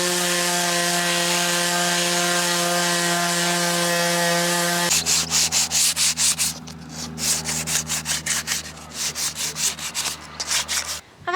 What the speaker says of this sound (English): So I'm scraping that off with a screwdriver